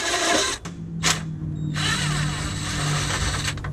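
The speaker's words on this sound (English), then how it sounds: "We got that impact from Harbor Freight." A Harbor Freight impact wrench hammering on heat shield bolts during a car header install, loud and close, with a short burst, a brief pause, then a sustained rattling run lasting several seconds.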